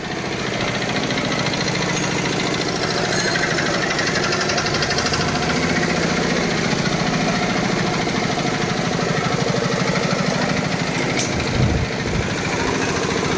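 A Giriraj Agro nano tractor's small diesel engine idles steadily and close by, a continuous low chugging rumble with a faint knocking pulse throughout, no voices.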